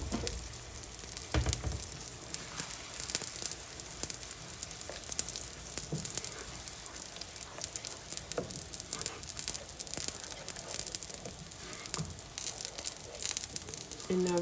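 Eggplant curry with spices sizzles and fries in hot oil, a dense continuous crackle with scattered pops throughout, close and steady for the whole stretch.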